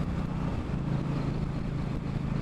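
An Indian Scout Bobber motorcycle engine runs steadily, giving a smooth, even rumble with no pauses and no talking.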